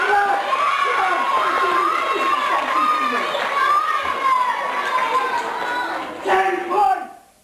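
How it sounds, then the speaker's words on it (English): A crowd of children cheers and shouts loudly and continuously at a live show, voices rising and overlapping, with a brief louder swell near the end before fading. "Give the genie a big clap!"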